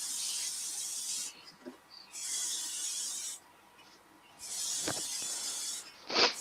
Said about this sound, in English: I'm just going to give it a quick spray.